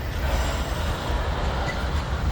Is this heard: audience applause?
no